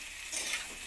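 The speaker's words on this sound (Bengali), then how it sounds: "নুন হলুদ দিয়ে আলুটাকে আবার ভেজে নিচ্ছি" Boiled potatoes fry with salt and turmeric for a vegetarian kasuri aloo dum, giving a soft continuous sizzle with a couple of brief louder crackles.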